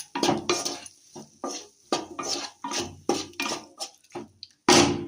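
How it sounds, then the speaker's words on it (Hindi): Spoon stirring turmeric and black pepper powder into a pot of soup, giving a run of short scraping and clinking strokes against the pot, close and fairly loud, with no talking. "सबको मिक्स कर देंगे।"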